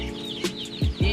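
Baby native chickens in a coop give short, close clucks and peeps, a few quick calls in a brief burst.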